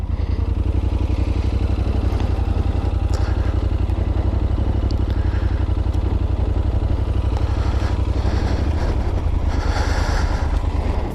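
A motorcycle engine idles and burbles steadily at low speed while the bike is ridden through a slow full-lock turn, loud and close, with an even rhythmic pulse and no talking.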